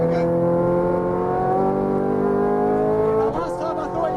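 A Ferrari F430 Scuderia's engine holds a loud, steady high-pitched drone under throttle from inside the car on a track, then the note shifts abruptly near the end as the driver lifts or shifts.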